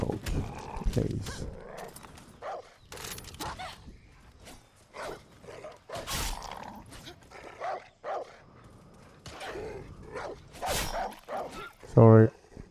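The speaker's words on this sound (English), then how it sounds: "Oh, a dog." Dog in the video game Far Cry 6 barks in a short, loud burst near the end, after a stretch of a person talking over game footsteps and ambient noise.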